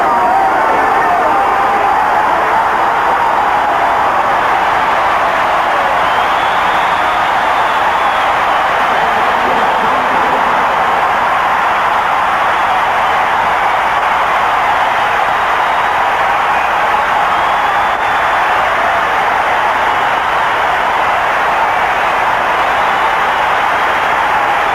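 A 1984 Olympic stadium crowd roars steadily as Joan Benoit, winner of the first women's Olympic marathon, comes out of the tunnel; the sustained, broad wash of cheering stays constant throughout, heard from within the stands.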